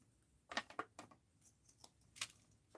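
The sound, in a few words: cutting and trimming paper to size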